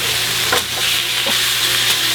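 A homemade hamburger patty fries in a pan, giving a steady close hiss of sizzling fat with small pops and a few scraping sounds, with no talking.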